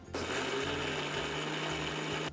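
A mixer grinder coarsely grinds pepper, cumin and dried red chilies with a steady, loud motor whir that starts abruptly and stops after about two seconds, with a low rumbling drone and no talking.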